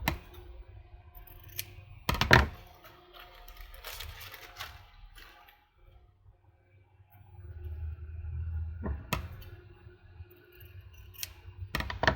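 Scissors snip through paper scraps during a Christmas craft session, with a few sharp close cuts early, a quieter handling stretch, then more crisp snips near the end.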